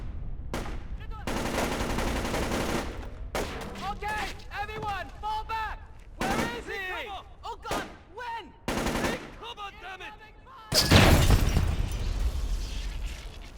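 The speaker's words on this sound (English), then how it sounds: "We've got incoming shots!" Loud video game combat from Splinter Cell Chaos Theory: rapid machine-gun bursts, scattered gunshots and a heavy explosion near the end, with voices shouting over the fire throughout.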